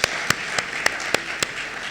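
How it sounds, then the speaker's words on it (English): Applause at an annual lecture of the Development Bank of Nigeria, heard as a sparse run of seven or eight separate claps spaced about a third of a second apart over a steady hall hiss, fairly quiet and with no voices. "Let's give him a round of applause."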